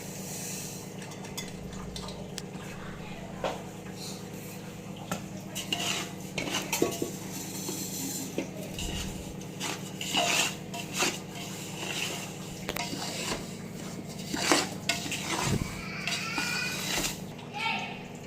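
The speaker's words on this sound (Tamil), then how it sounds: "இனி ரவை வறுத்துக்கலாம்" Semolina being roasted in ghee in a large pot, with repeated metal spoon scrapes and clanks against the vessel over a steady background hum, some scattered voices and clatter nearby.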